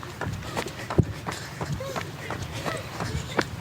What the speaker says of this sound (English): I hear my footsteps.